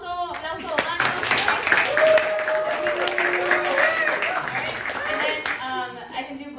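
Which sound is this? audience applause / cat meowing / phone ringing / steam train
audience applause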